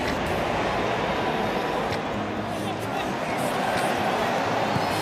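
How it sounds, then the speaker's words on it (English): Football stadium crowd in a match against Danny Carvajal's side, a steady loud roar of many voices rising as fans urge a shot, continuous throughout with no clear individual speech. "The crowd are calling for a shot."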